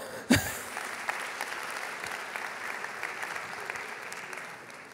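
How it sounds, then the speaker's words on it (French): Applause from an audience at a French plenary conference session, starting with a sharp onset and holding steady and dense for several seconds, moderately distant in a large room. "On peut l'applaudir très fort"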